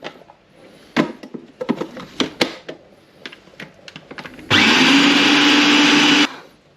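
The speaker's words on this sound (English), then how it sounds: "Lid back on, blend it up." Lemon cheesecake filling with lemon juice and vanilla: a run of clicks and knocks as the lid goes on, then a loud, steady blender whir for about two seconds that stops abruptly.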